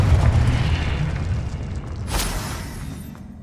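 A booming magical blast from the Confringo spell in the video game Hogwarts Legacy rumbles loudly at first and fades over a few seconds, with a brief crackling burst near the end.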